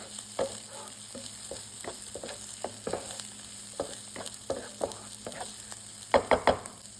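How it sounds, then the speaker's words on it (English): Tomato flash-fried in a hot wok with stir-fry noodles: a steady sizzle with repeated clacks and scrapes of stirring, ending in three louder knocks near the end, no talking. "So it should be like very flash fried."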